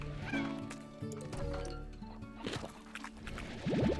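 Several short meows from cats in the video game Slime Rancher rise over a busy background of watery gurgles and soft music, with a brighter meow near the end.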